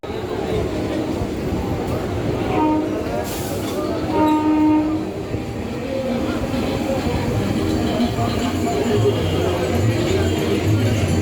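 Local train running from Sealdah to BBD Bag in Kolkata, a steady loud rumble of wheels and carriage with a horn sounding partway through, and people talking faintly under the din.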